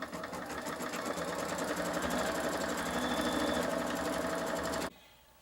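An embroidery sewing machine runs a tie-down stitch on a hooped wine glass coaster, a loud, rapid, even mechanical buzz of needle strokes for nearly five seconds before stopping abruptly.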